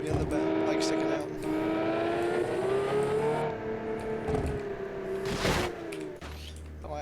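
Twin-turbo V12 mounted at the rear of a car in BeamNG Drive, droning steadily with rising and falling pitch as it revs, interrupted by brief bursts and a drop near the end.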